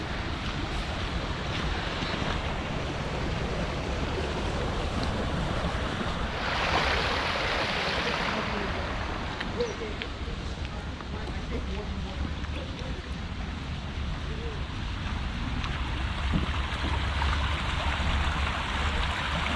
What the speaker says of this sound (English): Bit of a rarity in Perth is actually seeing running water like this.